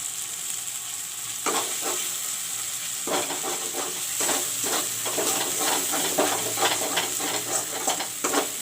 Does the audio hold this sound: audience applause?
no